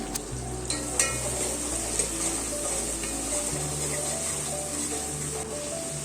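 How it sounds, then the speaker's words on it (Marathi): Ginger and onion sautéing in a pan for Schezwan fried rice, a steady sizzle with scattered clinks of a utensil against the pan, under a constant background hum and steady tones. "आलं होतं ते टाकलं आणि मग कांदा टाकून घेतला थोडं परतून घ्यायचं सगळं"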